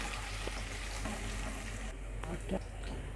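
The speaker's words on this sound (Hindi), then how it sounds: "थोड़ी देर इसको फ्राई कर लेंगे।" Quiet, steady sizzling of garlic and ginger frying in oil, with a low background hum and a few faint clicks of a utensil.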